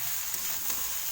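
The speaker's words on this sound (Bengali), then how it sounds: "2 মিনিটের জন্য আমি এটাকে হালকা কষিয়ে নিয়েছি, মানে হালকা ভেজে নিয়েছি" Potatoes frying lightly in a pan for a potato and egg curry, giving a steady, soft, close sizzle with faint crackles throughout and no talking.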